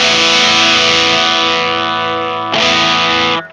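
Guitar through a Swamp Witch Silver Birch overdrive pedal, a loud sustained distorted chord ringing, then a fresh strum near the end before it cuts off.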